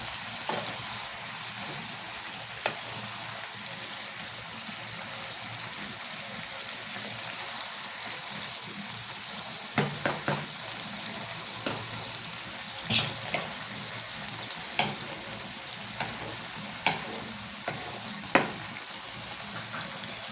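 Dry red chillies sizzle in hot oil in a pan as a simple tempering, a soft, steady crackling hiss with scattered small pops, faint and continuous throughout.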